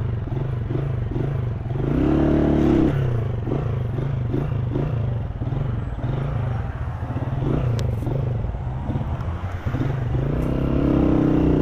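A motorcycle engine idles and putters steadily after being restarted in the middle of a city avenue, with a few revs and some mechanical clatter, close and fairly loud throughout.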